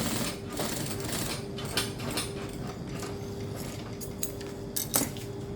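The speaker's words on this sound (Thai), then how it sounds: "ต้อง ใช้ตีนผีธรรมดาเย็บไปก่อนครั้งหนึ่งแล้วก็มาใช้ตีนผีตะเกียบเย็บครั้งหนึ่ง" Sewing machine running a zipper seam with a presser foot, a quiet steady mechanical whir with light clicks and small metallic taps scattered over it, fairly close and without talk.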